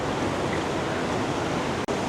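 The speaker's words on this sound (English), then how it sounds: "Here's some more of the water flow." A waterfall pours over rocks in a steady, loud, broadband rush that stays close and unbroken apart from a brief dropout near the end.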